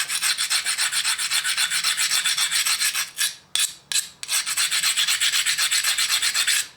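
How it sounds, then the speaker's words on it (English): An abrader rasps against an edge to grind it back, a fast, steady scraping of rapid rhythmic strokes, close and loud, with a couple of brief pauses partway through. "I'm going to take my abrader, and I'm just going to grind back that edge"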